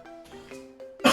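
A single short cough, close and fairly soft, turned away from the microphone, following a few faint voiced breathy sounds.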